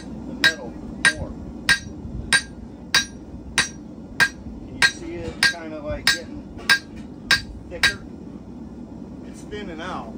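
A hammer strikes hot metal on an anvil horn in a steady, evenly spaced rhythm, about fifteen ringing blows, close and clear, with a brief quiet voice near the end.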